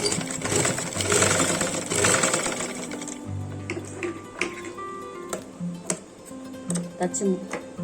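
A sewing machine runs in a dense, rapid stitching burst, then in shorter intermittent runs, as it stitches along the folded edge of an eight-panel skirt. A voice talks over the machine.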